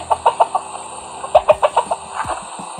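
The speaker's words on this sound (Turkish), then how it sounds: "anne bak burada ne kadar güzel tavuklar var" Several video-game chickens clucking close by in quick, bouncy bursts in Toca Boca World, with a pause in the middle before the clucking resumes.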